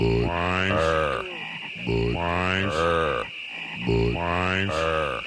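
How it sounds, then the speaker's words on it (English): Frogs croaking in a Budweiser beer commercial from the 1990s, a loud, close series of deep, rhythmic croaks in about three separate bursts, each a drawn-out guttural call, with no talk over them. "In the 90s, it was definitely Budweiser with their Budweiser frogs."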